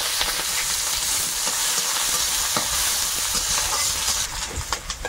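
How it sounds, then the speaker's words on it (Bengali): Chopped onion fries in hot oil with whole cumin, crackling in a continuous close sizzle broken by soft stirring scrapes, which ease off near the end. "পেঁয়াজটা হালকা ভেজে"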